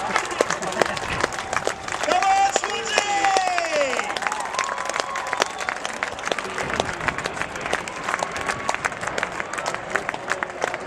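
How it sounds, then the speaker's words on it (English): Crowd at the Wales National Airshow in Swansea applauding the synchro pair, steady scattered clapping with a jet engine roar sweeping over it and people talking nearby. "Swansea, please put your hands together for the synchro pair!"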